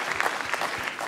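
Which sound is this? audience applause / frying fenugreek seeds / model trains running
audience applause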